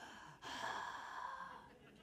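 A human voice imitates Darth Vader breathing through a helmet: one drawn-out, hissing breath that starts sharply and fades slowly, heard close and quiet.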